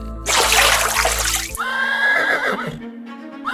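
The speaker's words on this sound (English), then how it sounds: "you've been turned into a horse." Just after a watery splash, a horse gives one loud, close, drawn-out whinny that wavers in pitch and then tails off.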